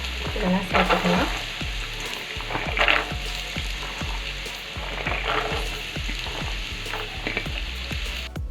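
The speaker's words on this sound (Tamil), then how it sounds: "இப்போ எண்ணெய் காஞ்ச உடனே நம்ம நறுக்கி வச்சுருக்க இந்த கேரட்டு, பீன்ஸு இதெல்லாம் சேர்த்துக்கலாம்." Chopped carrots and beans sizzle and crackle in hot oil for chicken fried rice, with a steady run of spatula scrapes and clinks against the pan.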